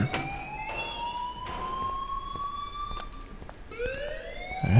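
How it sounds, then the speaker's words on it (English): Repeated rising electronic alarm tones ring in the Life is Strange video game, a siren-like wail sweeping upward in long steady bursts, fairly loud and continuous with no talking. "please turn off that alarm since that's your job"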